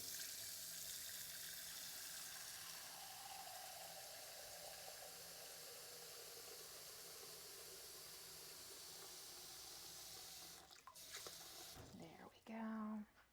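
Tap water runs into a large bowl, a long steady faucet hiss that rises in pitch as the bowl fills, then cuts off, followed by brief clattering and handling near the end.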